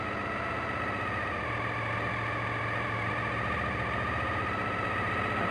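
A Suzuki engine idles steadily at a raised 2000 rpm during throttle position sensor tuning, a constant, even mechanical drone with a low hum, close and moderately loud throughout, with no voices.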